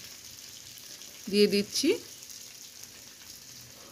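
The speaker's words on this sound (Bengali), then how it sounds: "এবার ভালো করে একটু নেড়েচেড়ে ভেজে নেব" Green chilli paste stir-fried in a pan for a vegetarian Bengali pointed gourd (potol) dish gives a low, steady sizzle, with a brief spoken phrase over it.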